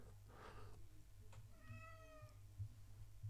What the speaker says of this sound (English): that's the cat.